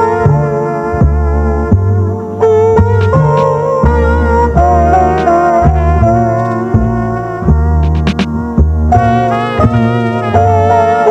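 An eight-bar pattern on an MPC2000XL sampler plays as a dense, continuous loop of sustained melodic chords over a heavy bass line and drum hits, loud and steady with no talking.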